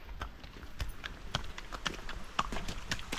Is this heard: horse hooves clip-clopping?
yes